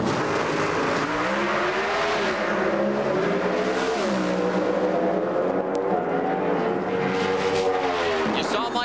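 An NHRA drag race car at the 2003 Summitracing.com Nationals roars loud and steady down the track at about 200 mph, a continuous engine howl with shifting pitch, while a commentator talks over it.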